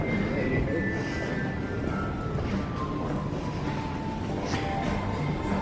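Airplane engine noise at a busy airport, a steady broadband roar with faint tonal whine, continuous throughout with some background voices beneath.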